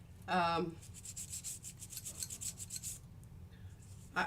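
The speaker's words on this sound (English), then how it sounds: "I'm just going to give it a rub down here" A hand rubbing down acrylic-painted paper, a soft dry rasping scrub repeated in quick strokes for a few seconds, close up, with a brief squeak at the start and no talking.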